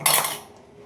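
Mango malpua batter for a Bengali sweet being beaten by hand in a bowl, a brief close wet clatter that fades over under a second, with no talking.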